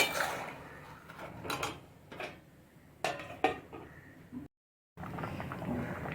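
A lid set down on a pot of katla fish curry simmering with potato, ridge gourd and papaya, giving a few sharp metallic clinks and clatters over a steady background, with one brief gap of silence.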